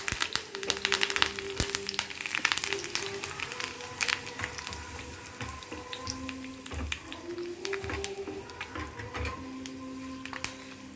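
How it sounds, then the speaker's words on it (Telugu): Mustard seeds and curry leaves fry in hot oil for a tomato pickle, giving irregular sharp pops and crackles over a faint sizzle, close and moderately quiet, with no speech. "ఆవాలు చిట్టుపట్లాడేదాకా వేయించుకుందాం కరివేపాకు కూడా వేసుకోండి"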